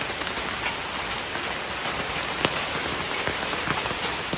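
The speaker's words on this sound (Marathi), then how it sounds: "मित्रांनो पाऊस पण आलाय" Rain falls on a metal sheet, producing a steady patter of drops with sharper individual plinks scattered through it, moderately close and continuous.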